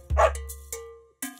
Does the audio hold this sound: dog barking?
yes